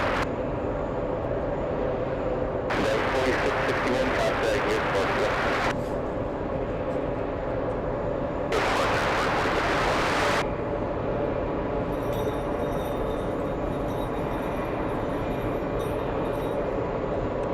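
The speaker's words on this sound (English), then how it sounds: "The Champions League 777 taxiing." A Boeing 777 airliner taxis at JFK airport, a steady distant jet engine rumble and whine continuing throughout, with bursts of broadband roar swelling twice and a faint high tone near the end.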